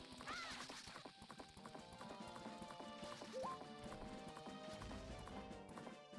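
Horse hooves clip-clopping steadily in the Legend of Zelda: Majora's Mask game, with a brief neigh, layered over busy game music at moderate loudness.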